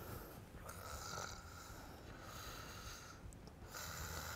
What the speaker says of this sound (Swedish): Vanligt är att personen kan ha konstig andning.